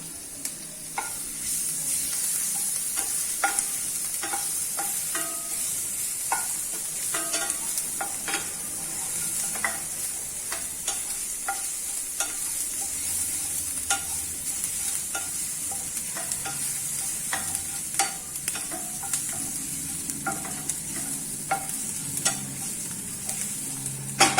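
Green chillies spit and sizzle steadily as they are stir-fried in an oiled pan, with frequent sharp crackles and scraping stirs over a constant hiss, close and fairly loud.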